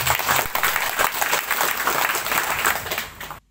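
A mosque congregation at a dzikir gathering claps in a short, loud burst of applause that stops abruptly.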